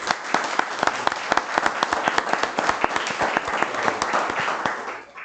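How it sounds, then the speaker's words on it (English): A crowd at a city council meeting applauds steadily for several seconds, dense overlapping claps at a lively, even pace, fading slightly at the end. "if everybody can just kind of give them a round of applause"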